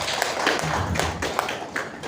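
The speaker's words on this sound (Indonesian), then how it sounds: "Tepuk tangan untuk kita semua." Applause from teachers attending a workshop, a moderate, somewhat distant patter of clapping hands with a few sharper claps, fairly even across the short stretch.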